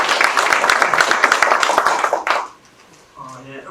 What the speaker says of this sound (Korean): 그럼 회장님을 여러분의 큰 박수로 모시도록 하겠습니다